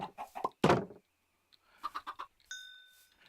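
Chickens in a modded video game cluck in short bursts, with a louder squawk, a pause, then another quick series of clucks and a brief high tone at the end.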